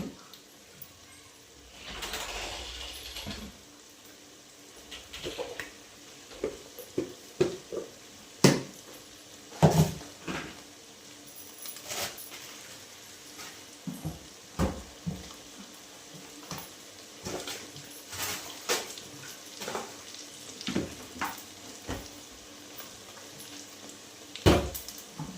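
Masala fries and roasts in a pan for a Kannada home-style sambar, giving a soft steady sizzle broken by repeated scraping and stirring knocks of a utensil against the pan, with faint speech at times.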